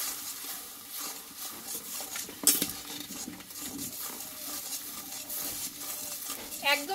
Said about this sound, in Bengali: আর সবশেষে দিব 1/2 চামচ মতো চিনি দিয়ে ভালোভাবে আমি এটা কষিয়ে নেব একটু